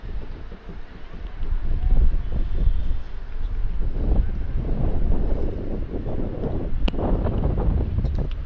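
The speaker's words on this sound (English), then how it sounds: "It's so windy and it's an upwind pull for Gujarat." Strong wind buffets the microphone outdoors at a sports pitch during a Gujarat versus Uttar Pradesh match, a steady loud rumbling roar with gusts swelling throughout.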